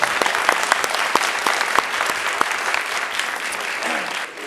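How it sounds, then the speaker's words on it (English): An audience at a town board of mayor and aldermen meeting applauds, with steady close clapping that fades out toward the end. "Let's all clap for Carter, please."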